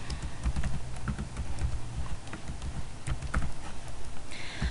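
Fingers type on a computer keyboard in quick, irregular bursts of close, crisp key clicks over a low background rumble.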